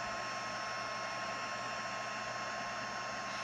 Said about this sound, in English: with my heat tool already warmed up, it's going to go super fast